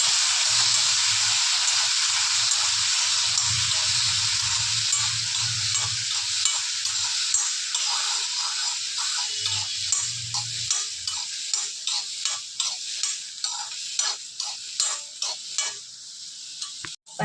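Small shallots being sautéed in a kadai for a chutney, a continuous close sizzle with repeated rhythmic stirring scrapes that grow more distinct toward the end, no voices.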